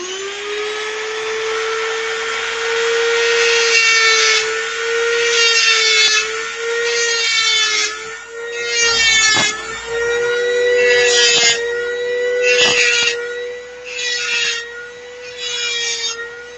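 A Dremel rotary tool cuts into a wooden center section for a P-47 model aircraft, making a high buzzing whine with repeated rasping strokes that rise and fall, close and fairly loud.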